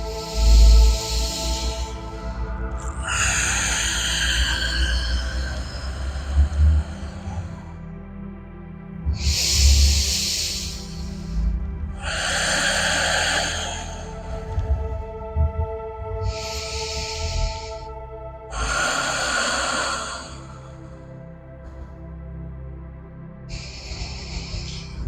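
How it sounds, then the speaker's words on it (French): Slow deep breathing during a yoga session, long hissing inhales and exhales repeating at a calm, even pace, close and alone, with a faint hum of soft background music underneath. "vous respirez très profondément"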